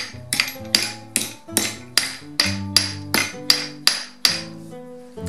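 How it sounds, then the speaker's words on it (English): Steel plate for armor gauntlet fingers struck by a hammer, about a dozen sharp ringing blows in a steady rhythm, each with a short metallic ring, close and loud with no talking. "When you're hammering, try to get the hammer impact close to this edge"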